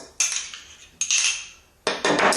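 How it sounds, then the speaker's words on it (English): Pie filling is spooned into a glass jar for a quick Thanksgiving dessert, producing three distinct bright metallic clinks and scrapes of a spoon against the jar, each fading away, close and clear with no talking. "I'll go ahead and spoon in my filling here."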